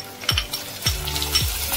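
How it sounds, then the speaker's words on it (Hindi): Sliced onion frying with whole garlic cloves in a pan for tadka of sabut moong dal, a steady sizzle broken by three scraping stirs of a spoon, close and moderately loud with no talking. "इसको अभी 5 मिनट में अच्छे से फ्राई करूंगी"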